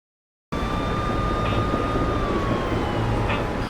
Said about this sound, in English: Why did it open with police sirens?